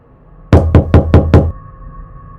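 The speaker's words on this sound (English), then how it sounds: "that night, the knocking returned. Louder this time, more insistent." Five sharp, evenly spaced knocks on a wall ring out loud and close in a quick run, with near silence before and after.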